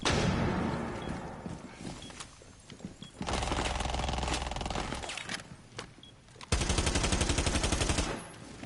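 Bursts of rapid video-game gunfire in an Icelandic-language multiplayer session, with dense automatic fire in the middle and a sharper, louder rattling volley near the end, separated by quieter stretches.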